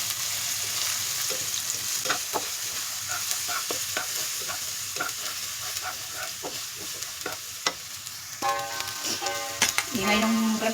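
Chinese sausage sizzling and frying in a pan during cooking of rice dumplings, with steady crackling, repeated stirring scrapes, and a brief tonal clatter near the end.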